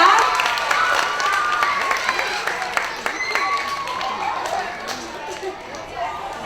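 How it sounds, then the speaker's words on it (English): An elementary school assembly audience applauds third graders, clapping that starts fairly loud and gradually thins out, with children's voices and crowd chatter mixed in. "Can we have another round of applause for our third graders?"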